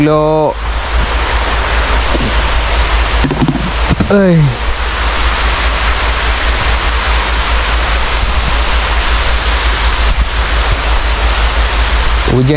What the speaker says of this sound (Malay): Hujan pula geng, hujan pula.